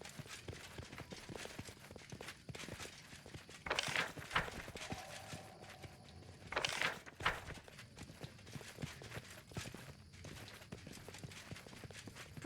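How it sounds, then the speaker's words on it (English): Soft, quiet footsteps in the video game Pathfinder: Kingmaker, a steady faint patter of steps running throughout, with two brief louder bursts of game sound partway through. "Quiet footsteps."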